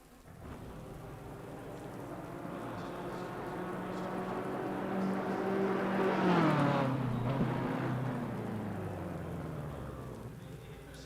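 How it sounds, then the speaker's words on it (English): Rain and a race car in a racing video game at Silverstone, a steady wash of rain under an engine note that rises and falls in pitch as the car passes, louder in the middle. "the rain's starting to set in"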